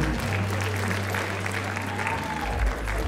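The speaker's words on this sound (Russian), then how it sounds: "Аплодисменты участницам." Steady audience applause for contestants at a Siberian bodyfitness competition, continuous clapping from a large hall crowd with a low hum underneath, no speech.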